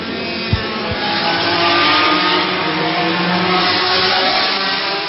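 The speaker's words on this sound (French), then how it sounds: "Les voitures qui sont parties un peu n'importe comment pour un tour de reconnaissance" 1966 Formula 1 race cars at the French Grand Prix set off on a reconnaissance lap, a continuous engine roar that swells and holds, with a couple of sharp knocks near the start.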